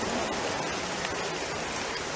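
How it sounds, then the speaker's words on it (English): Steady, dense rain pours down in the medieval battle scene of The Curse Crusade, a broadband hiss of drops on surfaces filling the scene without pause. "Why did it have to rain today of all days?"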